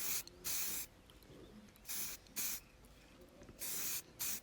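Aerosol or spray gun hisses in short, regular bursts of roughly half a second while a colour coat goes onto a Land Rover under restoration, close and steady against a quiet background.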